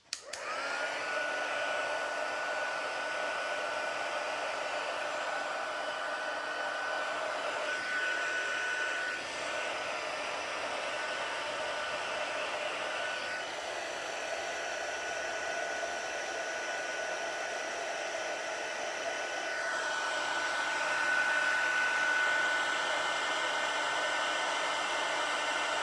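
An embossing heat tool blows steadily for about 26 seconds, a loud, continuous whirring roar with a faint high whine riding on it. It swells slightly near the end.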